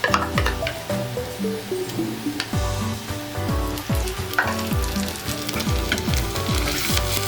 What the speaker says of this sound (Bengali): পেঁয়াজটা যখন আমার এরকম করে ভাজা হয়ে গেছে তখন আমি এর মধ্যে দিয়ে দেব আদা রসুনের পেস্ট।